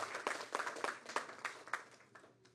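A small audience at a mayoral housing announcement gives brief, faint, uneven applause, with scattered distinct claps fading out over a couple of seconds.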